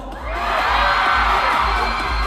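A crowd at the Metro Manila Film Festival bursts into a loud, sustained shout and cheer after a brief lull, with whoops over a dense roar that holds to the end.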